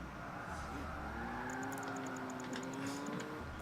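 A lightweight Lotus sports car in the Project Gotham Racing video game, its engine droning steadily with rising and falling pitch as it accelerates, fairly faint, with a run of small clicking pops partway through.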